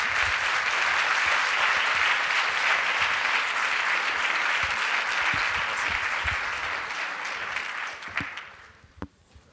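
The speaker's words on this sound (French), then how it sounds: "Applaudissez-le, merci." A seated audience at a user experience meeting warmly applauds a speaker as he arrives, loud sustained clapping for most of the time before it thins out into a few scattered claps and fades.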